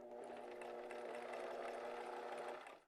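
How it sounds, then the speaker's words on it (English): A Bernina sewing machine fitted with a Teflon foot stitches jelly vinyl for a zipper pouch, a steady close whirring hum running continuously for a few seconds before stopping abruptly. "and I'll sew it down"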